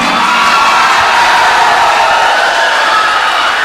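Audience at a chief guest performance clapping and cheering loudly, a dense crowd roar with shouts and whoops mixed into steady applause, close and sustained.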